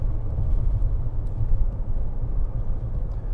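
A 2024 Lexus TX 350 three-row SUV with an 8-speed transmission accelerates at half throttle, heard from the cabin as a steady low engine and road rumble with no talk.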